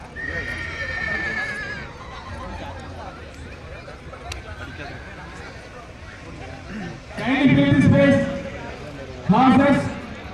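Horses at a temple chariot festival in Anthiyur, with loud neighs and whinnies rising twice near the end over a steady clatter of hooves and crowd babble, people talking throughout.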